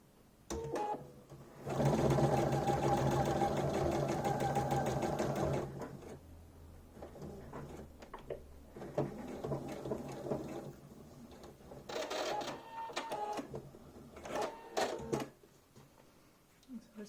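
A sewing machine stitches a line of fabric in a steady whirring run of about four seconds, followed by shorter bursts of stitching and handling noises at close range.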